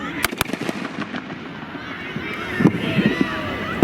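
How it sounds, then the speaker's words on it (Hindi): During a police riot-control mock drill, two sharp gunshot cracks ring out at the start, followed by quieter scattered pops and thuds, with people talking over the outdoor scene. "कमांडर द्वारा संकेत से फायर की कार्रवाई की जाएगी।"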